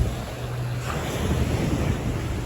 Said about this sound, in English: Got some lovely waves coming today.